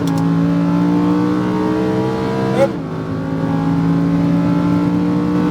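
A Lamborghini Huracán accelerates on a Las Vegas race track, its engine revving up in a rising whine with a shift midway, then climbing again; loud, close and continuous with no voices.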